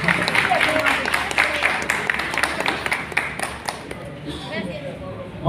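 A crowd claps at a Partido del Trabajo Christmas gathering during the handing out of official party vests. The clapping is moderately loud and uneven, with individual sharp claps and voices mixed in, and it tapers off toward the end.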